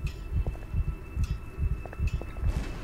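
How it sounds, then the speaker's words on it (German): Heartbeat in the Call of Cthulhu video game, a loud, low double-thump pulse repeating in a steady rhythm, with a faint background hum and no talk. "Ist das unser Herzschlag?"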